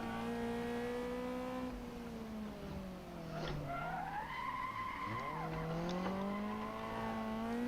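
A race car engine in Gran Turismo Sport whines through rising and falling revs as it shifts and brakes, with tire squeal and skidding, loud and continuous throughout.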